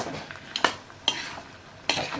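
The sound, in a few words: stirring pork with elephant apple frying in a pan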